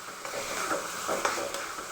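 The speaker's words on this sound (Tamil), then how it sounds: "கொஞ்சோண்டு சீரகப்பொடி சேர்த்துட்டு நல்லா இப்படி கிளறி விடணும்" Cumin powder being stirred into tomato cooking in oil, a steady soft scraping and faint sizzle running continuously with small stirring strokes, fairly quiet and close.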